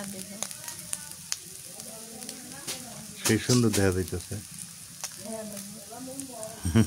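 Small shrimp and small potatoes fry in a pan with a steady, crackling sizzle, while voices talk over it and get louder around the middle.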